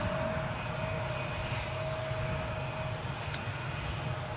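A KLM Embraer 175 airliner taxis at Newcastle International airport, its engines giving a steady, loud broadband rumble with a constant whine that holds at an even level throughout.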